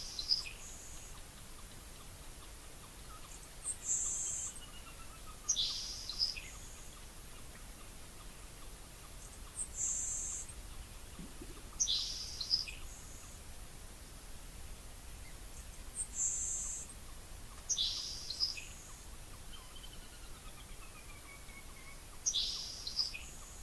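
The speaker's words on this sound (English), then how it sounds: "here is the LeConte sparrow and Nelson sparrow singing in the same track" LeConte's sparrow and Nelson's sparrow singing in a prairie marsh, faint, thin, high buzzy songs repeated every couple of seconds over a quiet, hissy background, with a soft low call once midway.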